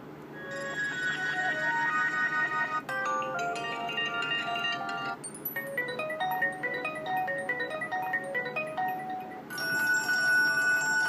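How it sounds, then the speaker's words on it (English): A loud electronic ringtone melody plays alone from an HTC One phone, a bright repeating chiming tune that pauses briefly and restarts with a shift in pitch. "Ringtones."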